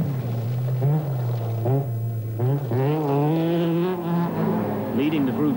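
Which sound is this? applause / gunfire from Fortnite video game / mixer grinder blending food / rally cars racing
rally cars racing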